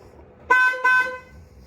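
Two short, loud horn honks from a nearby loaner car sound in quick succession, then fade into quiet background with no talking.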